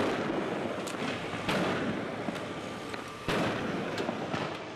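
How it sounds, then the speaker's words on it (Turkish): Fireworks and sound bombs go off at a street protest amid barricades in Cizre, several sharp cracks and bangs, one louder boom, over a constant rushing crowd-and-street roar. "havai fişekler ve ses bombaları atıldı."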